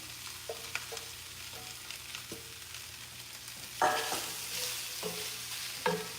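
Potatoes dropped into a hot pot for Zuppa Toscana soup, giving a steady low sizzle with a few sharper clatters and stirring scrapes, loudest near the end; no talking.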